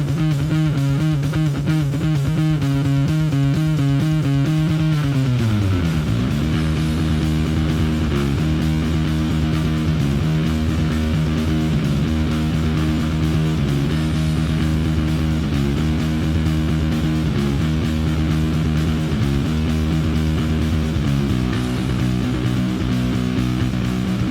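Bass guitar driven through an EHX Big Muff 2 distortion pedal, thick fuzzy sustained notes, loud and continuous, with a sliding pitch drop early on, no voices.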